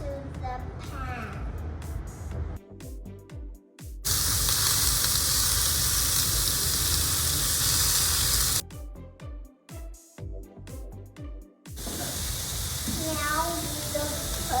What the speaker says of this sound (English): then we will put the meat roll into the pan